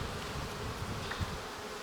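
A populous honeybee swarm hums in a steady, dense buzz at the hive early in the season. The sound is close and continuous and carries no speech.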